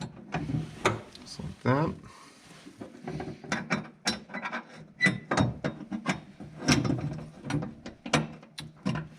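A ratchet wrench clicks in repeated bursts while tightening bolts on a lithium battery kit, close and distinct, with brief speech mixed in.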